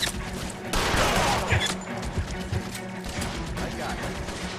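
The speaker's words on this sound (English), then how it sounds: "he's got some range on that machine gun" Bursts of gunfire from a shootout in the 1940s Los Angeles crime game L.A. Noire, with a distant machine gun firing among sharp crashes and clatter, under steady game dialogue and background noise.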